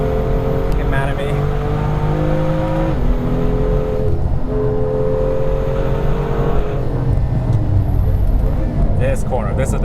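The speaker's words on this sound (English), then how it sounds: "I'm going to drive it more tidy now so Bill doesn't get mad at me" A BMW M2 driving hard around Laguna Seca race track, with a loud engine climbing through revs and dropping at shifts, steady interior drone throughout, and someone talking over it.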